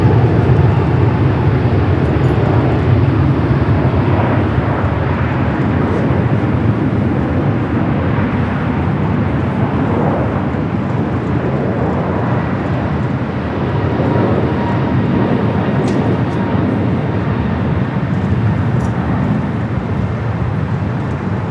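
An Air Tahiti Nui Boeing 787-9 Dreamliner jet on arrival at LAX produces a loud, steady engine roar throughout, a broad rumble that swells and eases slightly.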